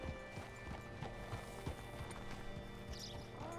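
A horse in the game Red Dead Redemption 2 walks with clear, rhythmic hoof clip-clops close by, a steady run of knocks over a low ambient bed, without speech.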